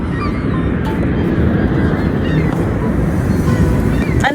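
Goose honking at Niagara Falls in winter, a few short honks riding over a loud, steady roar of rushing water.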